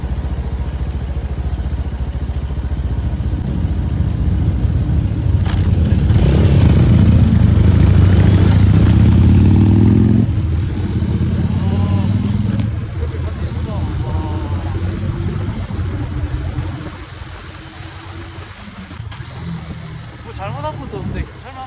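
A Buccaneer 125 motorcycle rides at night along Gwangalli, its engine droning loudly and steadily with low rumble and shifting pitch, accompanied by wind noise and intermittent talking.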